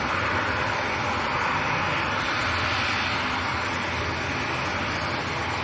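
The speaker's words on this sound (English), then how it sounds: "So this is Aer Lingus to Dublin, ATR 72." Aer Lingus ATR 72 turboprop bound for Dublin at Manchester Airport in crosswinds, a loud, continuous engine roar that stays even throughout, with no voices.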